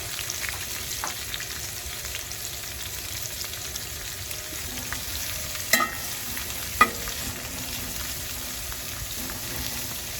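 Green peppers and onions fry in a pan with a steady, close sizzle, and two sharp utensil clinks come from the stirring midway through. Nobody speaks.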